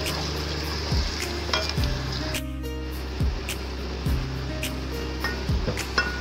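Onions fry in a pan while being browned, a constant close sizzle with a few scraping stirs spaced about a second apart, and no speech.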